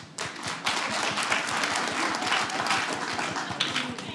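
Comedy club audience giving soft, light applause, a steady pattering of many hands clapping gently, fairly quiet and even from start to finish.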